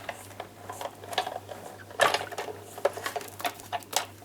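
A Big Shot die-cutting machine cranking an embossing folder through, a close run of irregular mechanical clicks and ratcheting taps with a steady low hum beneath.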